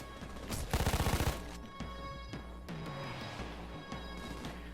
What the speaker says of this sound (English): I picked the LMG because, well, it's all about suppression fire